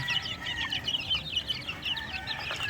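Young chickens and roosters on the ground of a farm pen cluck and chirp continuously, several birds overlapping in close, busy calls with no talk.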